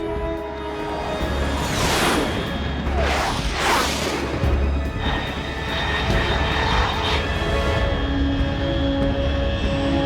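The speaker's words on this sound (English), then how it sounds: "Unidentified aircraft detected." A fast jet aircraft in Metal Gear Solid 3: Snake Eater roars overhead at high altitude, a loud, sustained engine rush that swells in repeated sweeping waves over a steady low drone, with no speech.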